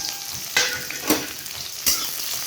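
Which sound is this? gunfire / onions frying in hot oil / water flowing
onions frying in hot oil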